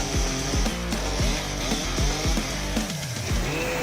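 A big chainsaw bites through giant logs in tough wood, its engine repeatedly revving and dropping in loud, close bursts as it cuts, with no voices.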